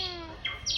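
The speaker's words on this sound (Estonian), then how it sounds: "Niimoodi teeb ööbik." Bird song played at a family theme park: a series of clear, whistled tonal notes, followed by two bright, high chirped bursts, moderately close.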